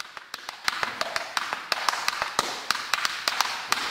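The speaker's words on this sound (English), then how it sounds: "Cast toe and heel taps provide a big," Tan slip-on tap shoes with cast toe and heel taps click out a brisk, irregular run of sharp metallic taps, close and clear without talk.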